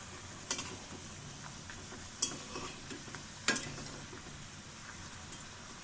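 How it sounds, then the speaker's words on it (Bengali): Rice-flour dough fries in a small kadai with a little oil, giving a faint, steady sizzle broken by a few brief scraping clicks of a utensil. "আমার মতো এরকম ছোট কড়াই নিয়ে নিতে হবে তাহলে অল্প তেলে ভাজা হয়ে যাবে"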